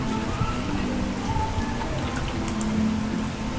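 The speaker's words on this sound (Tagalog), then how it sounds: "Umuulan." Steady rain falls on a natural hot spring pool with a constant soft hiss and patter throughout, moderately loud and close, with no voices.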